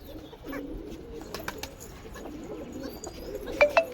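A pigeon coos in a soft, low, repeated murmur close by, followed near the end by a couple of sharper chirps.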